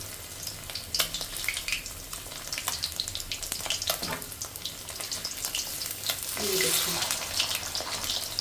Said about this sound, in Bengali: আমি আরেকটা সাইড ভেজে নেব মাছটাকে উঠিয়ে দিচ্ছি